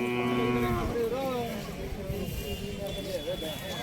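Hallikar bull calves moo loudly and drawn-out nearby, several overlapping calls, with shorter lower moos following as the first fades.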